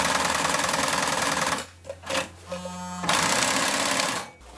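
A sewing machine runs a straight stitch at its longest stitch length of 4, whirring loudly in two bursts separated by a quieter pause with brief clicks and a short tonal hum.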